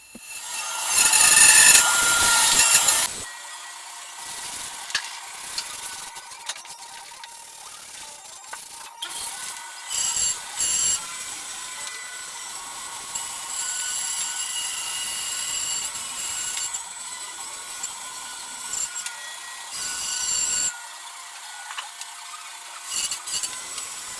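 Rhythmic rasping strokes of sandpaper on a hand block scraping across wood, close up, opening with a louder burst of rubbing before settling into steady back-and-forth sanding.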